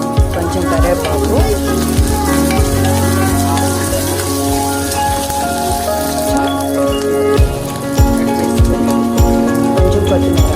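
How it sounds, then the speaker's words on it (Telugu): Tempering for dal sizzling in a pan, frying until reddish with curry leaves, a dense crackling sizzle with rapid spatters and periodic low knocks of stirring, loud and close throughout without talk. "బాగా రెడ్ కలర్ వచ్చే వరకు వేయించుకోవాలి"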